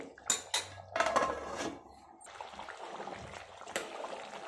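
A metal lid clanks onto a pot of simmering country chicken curry on a gas stove, with a few sharp clinks and rattles near the start and a soft bubbling hiss after.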